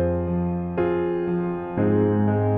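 Piano notes played in Logic Pro X with reverb blended in from a send bus, sustained chords ringing into a roomy tail; three struck chords in succession, close and clear, with no talking.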